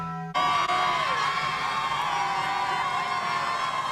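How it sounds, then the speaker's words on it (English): Xavier fans roar and whoop for the Musketeers at a Crosstown Classic college basketball game against Cincinnati in Cincinnati, a loud sustained arena crowd that bursts in suddenly after brief quiet and stays high. "Xavier fans in full force here tonight, cheering on the Musketeers."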